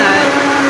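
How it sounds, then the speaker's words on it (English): A Vitamix blender runs at high speed, a loud steady motor whine with a dense buzzing hum held throughout the brief moment. "Vitamix blender, it actually works better to use the highest speed."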